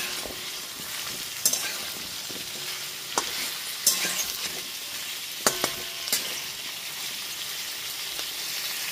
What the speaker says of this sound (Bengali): এরপর একটুখানি নাড়াচাড়া করে নিচ্ছি।